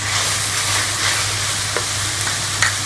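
Fried chicken pieces with tomato being stirred in a pan while cooking chicken macaroni, a steady close sizzle and frying hiss running throughout, with a few light scrapes of the spoon against the pan.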